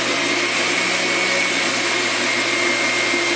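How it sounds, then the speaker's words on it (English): A blender whirs steadily as it blends lemon juice, egg, salt and tarragon for hollandaise, giving a loud, close, unbroken motor whine that holds one pitch throughout, with no voices. "just whizzed up with the lemon juice, the egg, the salt, and the tarragon"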